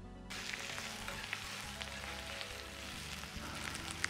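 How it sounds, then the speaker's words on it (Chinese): Onion and shiitake mushrooms stir-fried in hot oil after ginger and garlic, a steady close crackling sizzle with soft scraping of the stirring, continuous throughout with no talk. "接着下入洋葱和香菇一起翻炒"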